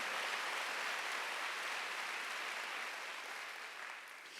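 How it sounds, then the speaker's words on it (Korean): Applause from a church congregation at a Wednesday worship service, a steady wash of clapping that holds evenly throughout and eases slightly near the end, with no voices over it. "박수."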